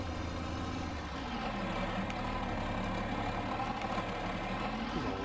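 Tractor engine idling in Farming Simulator 19, a steady low diesel drone with a constant hum and slight fluctuations, fairly quiet and uninterrupted, no talk.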